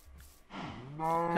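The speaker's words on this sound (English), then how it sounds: "Hello, cows." Cows moo in a Minecraft-style animation: a short, low, drawn-out moo rises and swells toward the end, fairly close and alone.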